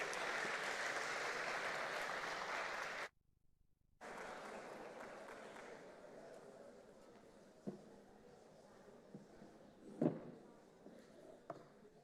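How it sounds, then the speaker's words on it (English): An audience at a university welcome event for incoming students applauds the student government president, with steady clapping that cuts out abruptly, then resumes more thinly and fades into scattered claps and small thumps. "That's a nice applause."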